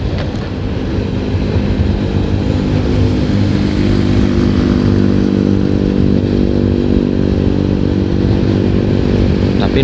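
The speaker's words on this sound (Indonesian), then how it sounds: "Tapi lumayan kenceng ini motornya." A motorcycle engine drones loudly and continuously at close range for about ten seconds on the busy Pantura highway near Cirebon during holiday homecoming traffic, with a steady low rumble and no pauses.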